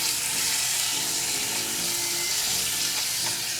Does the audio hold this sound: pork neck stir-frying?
yes